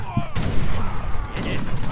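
Cannon fire in Age of Empires 3 during a campaign battle, a dense burst of booming shots over ongoing game noise, with a player talking.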